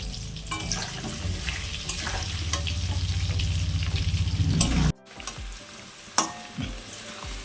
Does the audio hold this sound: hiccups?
no